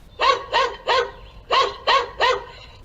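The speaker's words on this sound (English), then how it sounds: "You can enable the barking dog sound." An outdoor budget security camera's built-in barking dog alarm plays six sharp electronic barks in two quick bursts of three, separated by a short pause, loud and close with no other sound.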